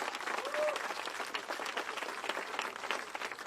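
Crowd applause at a campaign organizing event in Erie, Pennsylvania, sustained clapping from a room of people at moderate level, with some voices and cheers mixed in.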